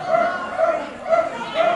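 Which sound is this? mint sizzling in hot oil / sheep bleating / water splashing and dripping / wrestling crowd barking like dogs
wrestling crowd barking like dogs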